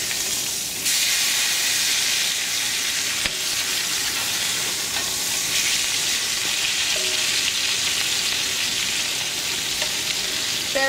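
Gar fish boulettes sizzle steadily in a hot frying pan, a dense close crackle and hiss that holds loud and constant, with faint clicks of handling and no speech.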